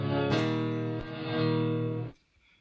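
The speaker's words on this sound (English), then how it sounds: "It's reverse reverb." Electric guitar through an Electro-Harmonix Oceans 11 reverb pedal set to reverse reverb, with a sustained, swelling harmonic tone and a couple of soft attacks. It holds steady for about two seconds, then cuts off abruptly into near silence.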